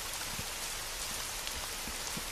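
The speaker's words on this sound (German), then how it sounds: "nur regnet dat all für dull und wir hab keinen Schirm mit bi" Steady rain falls continuously, a dense, even hiss of drops with scattered soft patters, moderately loud and close, with no voices.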